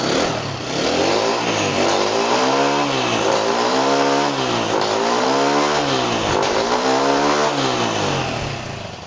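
A motorcycle engine fitted with its original CDI ignition revs up and down in steady repeated swells, loud and close, with no voices over it.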